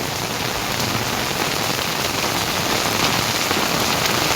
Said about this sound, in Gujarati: ધોધમાર વરસાદ અત્યારે આવ્યો છે બજુરમાં